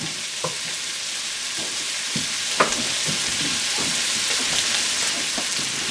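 Bacon grease sizzles in a pan with a steady bright hiss, broken by occasional soft taps and scrapes from a utensil. The sound is close and continuous, with no voices.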